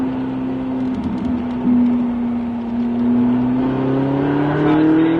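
A race car accelerates on the Albi circuit, its engine note climbing steadily in a loud, close, continuous drone with a rising pitch and faint wind rush, no voices over it.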